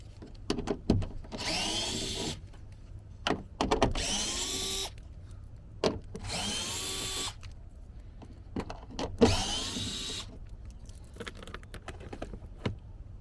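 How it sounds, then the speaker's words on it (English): A power tool loosens bolts holding a front door speaker on a third-generation Toyota Tacoma, with several short whirring bursts separated by handling clicks and rattles, close and fairly loud. "Now we can go ahead and loosen all 4 bolts here."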